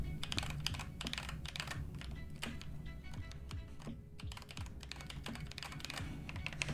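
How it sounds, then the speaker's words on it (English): Rapid, continuous typing on an Asus hot-swap mechanical keyboard fitted with Glorious Panda tactile switches, dense clacking keystrokes close up and steady throughout, with no voices. "The glorious pandas sound terrible."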